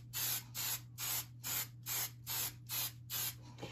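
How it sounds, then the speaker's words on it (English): Eight short, evenly spaced hisses from a hairspray can sealing an iron-on ink print, faint and rhythmic, with a low steady hum underneath. "you're just gonna take the hairspray and just go over the whole print"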